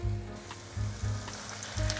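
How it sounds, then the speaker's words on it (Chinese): Cabbage and potato patties frying in a generous layer of hot oil in a pan give a steady, soft sizzle with gentle crackles, fairly close and alone. "锅内放入多一点的油，油有热了，放进来煎"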